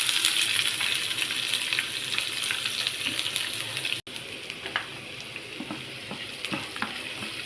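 Onion sizzling in hot oil in a pan with browned garlic and cumin, a steady dense frying hiss with occasional stirring scrapes and clinks, close and continuous throughout.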